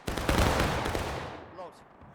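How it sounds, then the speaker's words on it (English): Musket volley fired by a company of soldiers in the Civil War game War of Rights at Hagerstown Turnpike, a loud ragged crackle of many shots blending into rumbling echo that fades out, with faint voices after. "Company, ready, steady, Steady. and fire."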